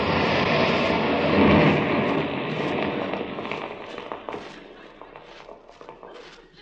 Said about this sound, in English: Butch, it will make a big bang? No, it's just a little shot